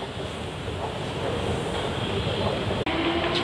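An MRT train pulls away from a station platform, a broad steady rumble and rushing roar that holds level for several seconds, with a brief sharp click near the end.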